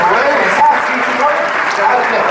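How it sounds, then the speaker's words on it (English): Audience applause at a special effects show at Universal Studios Hollywood, a steady dense clapping wash that runs the whole time with voices and cheers mixed in. "Let's give a round of applause"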